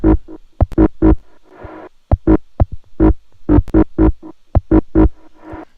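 A processed, distorted percussive pattern of sharp hits made from a carrot, with echoing ping pong delay repeats and crunchy noise bursts, rhythmic and loud, with no voices.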